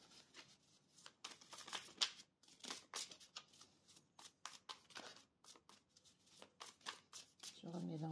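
Tarot cards reshuffled by hand, a close series of quick riffling and flicking bursts in irregular rhythm, soft and near, with brief quiet gaps and rustling between them.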